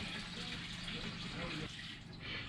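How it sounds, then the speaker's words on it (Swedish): Hot water running from a kitchen tap aboard a sailboat in a winter marina, a steady hissing flow heard close up and fairly quiet throughout. "så spolar du lite varmvatten i kökskranen"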